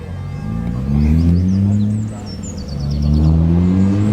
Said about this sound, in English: can hear some cars driving around over there, some quite fruity sounding cars.